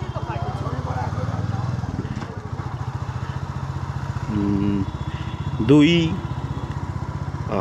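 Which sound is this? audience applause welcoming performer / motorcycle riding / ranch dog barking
motorcycle riding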